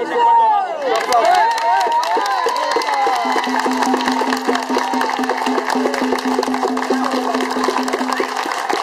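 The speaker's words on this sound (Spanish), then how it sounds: "¡Se oiga el aplauso! ¡Un aplauso!" A large outdoor crowd in Barrio Bélgica, Ponce, applauds and cheers at a farewell event, with loud voices and shouting at first, then dense clapping, whistles and a sustained horn-like tone throughout.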